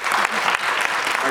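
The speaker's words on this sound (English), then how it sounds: "I guess I should say hold your applause to the end, but go ahead, that's fine" An audience applauds at the grand opening of an LGBTQ senior center in Austin. The clapping is steady and fairly dense, with a few sharper claps standing out, and it continues without any talk over it.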